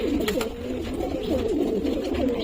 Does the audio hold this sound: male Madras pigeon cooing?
yes